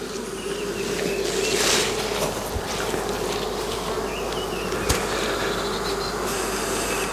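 Honey bees from a swarm buzz around a tree branch in a dense, continuous drone, close to the microphone, with a few sharp knocks and wind gusts over it.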